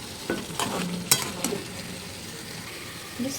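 Chicken sautéing with fried spices in a pan, with a low steady sizzle and several spatula stirs and clinks against the metal early on, then quieter frying and a last faint scrape, close with no talk.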